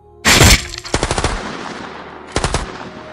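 Gunshot sound effects in a dramatic Tagalog narrated story: a loud, dense burst of gunfire, then a rapid cluster of shots in quick succession, and a final short volley, all close and sharp with no talk.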